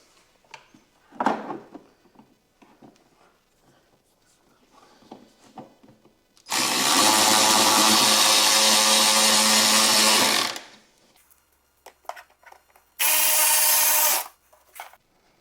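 Power drill driving screws into a golf cart battery tray during a 36V lithium upgrade on an EZ GO TXT, with a long loud whirring run, a pause, then a second shorter burst, plus light handling clatter before.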